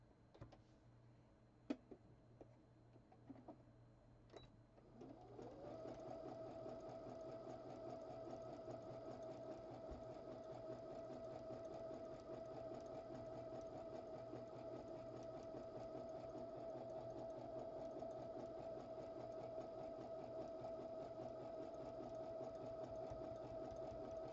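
A sewing machine runs steadily for about twenty seconds, stitching a small zigzag to hold a top hem on a needle and sewing supply keeper, preceded by a few quiet clicks as the stitch setting is changed.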